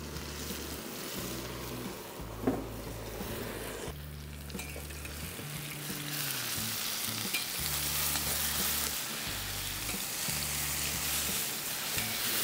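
Soya chunks, tomato, capsicum and onion masala stirred and frying in a pan, with a constant soft sizzle under intermittent scraping strokes and a low background hum, moderately quiet and with no talk.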